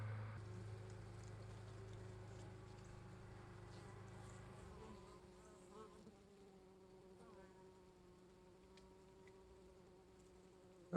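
Honeybees fanning at the entrance of a hive holding an August swarm make a dense, steady buzzing drone, fuller for the first few seconds, then softer and continuous.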